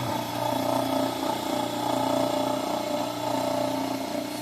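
An electric permanent magnet motor running on 60 Hz AC with one phase shorted for braking, a steady droning hum with layered tonal whine, constant and fairly loud, with no voices.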